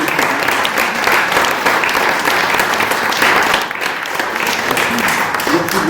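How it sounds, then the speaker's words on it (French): Loud sustained applause from a gathering at an art exhibition opening in a gallery, dense clapping holding steady throughout, with faint crowd murmur underneath. "Je demande qu'on applaudisse aussi."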